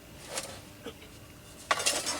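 A metal camping frying pan from a hobo stove cooking kit is handled, giving a few light clinks and scrapes in quiet surroundings, with a brighter clatter near the end.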